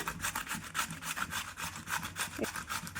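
Food is rubbed over a hand grater in a kitchen, making steady rhythmic rasping strokes close up that continue without pause and with no talk.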